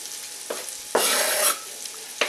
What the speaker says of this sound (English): I'm going to drop my garlic, red peppers, and onions right down in here to the pan here.